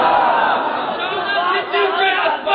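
A large crowd at a religious gathering chants slogans together, a dense sustained roar of many voices that swells and dips briefly near the end.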